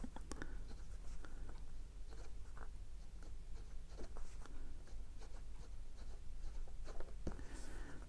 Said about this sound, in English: I'm writing on Rhodia paper today.